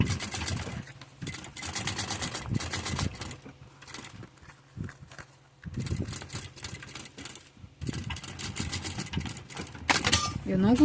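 Sewing machine stitching a rhinestone-covered cube-shaped cosmetic bag, with bursts of rapid mechanical stitching alternating with pauses while someone talks between runs.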